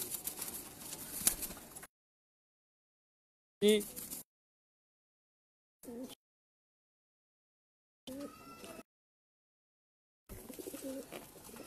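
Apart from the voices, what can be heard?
pigeon cooing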